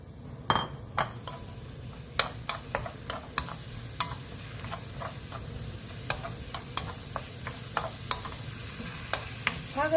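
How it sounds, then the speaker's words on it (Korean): Gourd greens and garlic stir-fry in a pan with a constant low sizzle, while a spatula clinks and scrapes against the pan in irregular sharp taps throughout. "중불에서 볶아줍니다"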